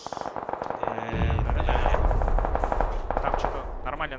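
Bursts of automatic gunfire in a video game, rapid rattling volleys at moderate distance across the clip, with quieter talk mixed in.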